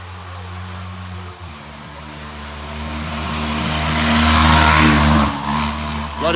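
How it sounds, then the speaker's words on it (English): A racing lawnmower fitted with a 650cc motorbike engine drones as it climbs a hill, with a steady engine hum that rises in volume as the machine approaches and passes. "some of these things, they all run on motorbike engines"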